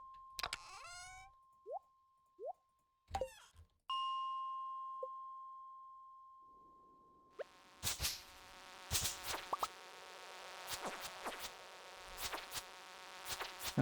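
Buzzing flies in a Stardew Valley mine, heard as chirpy game tones and a sustained ding at first, then a dense electronic buzzing swarm with repeated sharp hits filling the second half.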